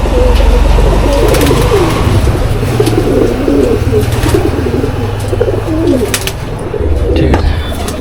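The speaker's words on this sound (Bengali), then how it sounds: "এই যে একটা পায়রা, এটা অন্য জেনারেশনের পায়রা।" Pigeons in a loft cooing continuously and close, their overlapping throaty coos filling the whole stretch, with occasional wing flutters and people talking over them.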